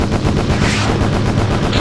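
Machine guns firing from a fighter plane in a Pacific-theatre World War II flight video game, a loud, continuous rapid rattle of shots with no pauses over a dense roar.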